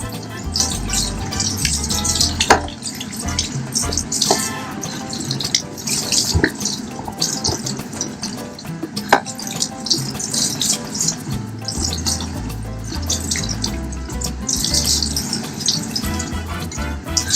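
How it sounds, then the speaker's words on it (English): Warm tap water runs continuously from a faucet at a barber's sink, rinsing stabilizer out of hair, a close, steady splashing stream with shifting gurgles and occasional sharp knocks. "We're going to rinse that stabilizer out of there good."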